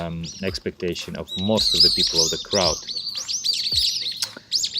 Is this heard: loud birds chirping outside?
yes